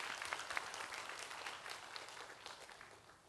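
A church congregation claps during a service, a soft, fairly distant patter of many hands that tapers off toward the end.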